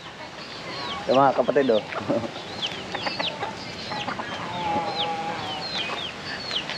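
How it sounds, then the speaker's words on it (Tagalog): Native chickens cluck close by in a rural mountain setting, a burst of loud clucks early on and softer calls scattered afterward, while someone talks briefly over them. "Dami namin alagang native na manok."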